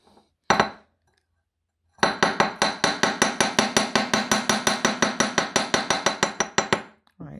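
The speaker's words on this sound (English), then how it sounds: "Now I just need to hammer this edge here." A hammer strikes the edge of a wire rose on a wirework necklace with one sharp tap, then after a pause a steady run of about thirty quick, ringing metallic blows, loud and close.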